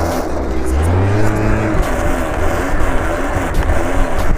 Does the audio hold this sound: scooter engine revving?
yes